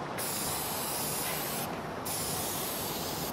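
A steady, continuous hiss of an aerosol spray can, close and loud, with a brief pause partway through before spraying resumes.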